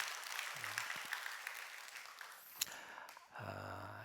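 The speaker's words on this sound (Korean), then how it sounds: "박수 한번 해주시면 고맙겠습니다" A church congregation at a dawn worship service claps together for a member, a soft, fairly brief round of applause that fades out and leaves quieter room sound with a few low tones.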